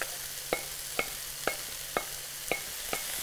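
Green cabbage fries in a pan with caramelized carrots and other vegetables under a soft steady sizzle, while a spatula strikes and stirs about twice a second in a regular rhythm.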